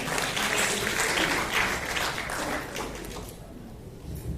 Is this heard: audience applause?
yes